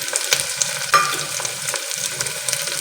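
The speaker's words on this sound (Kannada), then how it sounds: "ಇವಾಗ ಇದನ್ನೆಲ್ಲ ನೀಟಾಗಿ ರೋಸ್ಟ್ ಮಾಡ್ಕೊಳ್ಳಿ." Cumin, curry leaves, onion and capsicum roast in oil in a pan for tomato rice, giving a steady close sizzle broken by a few scraping stirs of the spoon.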